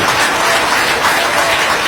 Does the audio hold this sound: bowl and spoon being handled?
no